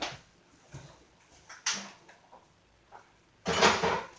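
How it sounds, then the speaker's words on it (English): The lid of a pot, likely a pressure cooker holding St. Louis style pork ribs, is unlatched and lifted, giving scattered close metallic clicks and clanks and a louder rattling clatter at the end. "You can unlatch the lid, and voila."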